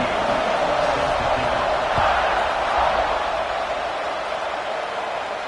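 A football stadium crowd waits before kickoff: a dense, steady roar of many voices, loud and continuous, with faint thuds beneath.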